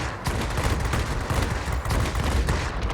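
Rapid automatic gunfire from aircraft guns in a World of Warplanes air battle, flown in a Japanese J4M multi-role fighter, a dense continuous rattling burst that stays loud and close from start to finish with no voices.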